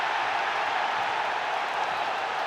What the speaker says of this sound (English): an almighty cheer from the Flamengo supporters